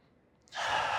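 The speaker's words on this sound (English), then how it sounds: "So just breathe again, 3 deep breaths" One deep, close inhale during a fascia exercise lying over a towel, a soft breathy rush that starts after a brief quiet moment and holds steady to the end.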